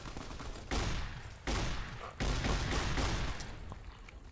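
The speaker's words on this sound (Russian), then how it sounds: "Выстрел из револьвера." Gunfire in Fallout: New Vegas, including a revolver shot, with three loud, sharp reports spaced about a second apart, each followed by a decaying echo.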